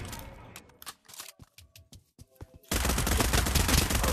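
Gunfire in the virtual reality shooter Pavlov, starting as scattered sharp shots and clicks, then breaking into a dense, loud continuous burst of automatic fire.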